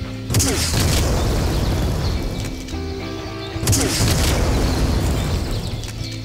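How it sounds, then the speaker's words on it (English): A grenade launcher fires in the VietDoom mod of Doom, giving heavy booming blasts with loud explosive rumble that swells twice and lingers, close and dominant with a voice talking over it. "this is a grenade launcher, straight up"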